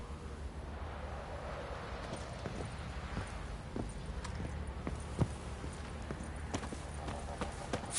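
Hooves of a horse clop along in The Witcher 3, an irregular series of sharp strikes that grow crisper later on, set against quiet, steady ambient noise.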